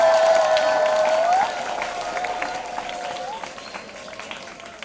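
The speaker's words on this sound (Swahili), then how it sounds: "Makofi na vigelegele kwa Mungu wetu." A church congregation at Mass clapping and ululating in praise, a dense wash of applause with a high trilling ululation at the start, fading somewhat but continuing.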